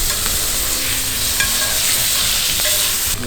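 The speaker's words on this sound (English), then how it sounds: "it looks like our bacon is done over the medium heat" Bacon frying over medium heat in a pan, a steady loud sizzle and crackle running throughout with a few sharper pops, no talking.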